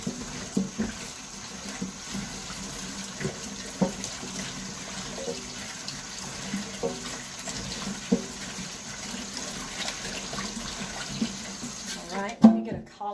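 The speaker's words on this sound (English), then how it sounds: "we're going to run a little water in here. Just kind of swish it around." Tap water runs into a bowl while fresh cabbage is washed, a soft ongoing trickle with small splashes and knocks of swishing, ending in a brief louder clatter.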